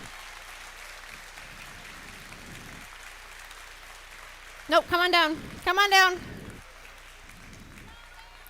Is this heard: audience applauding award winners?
yes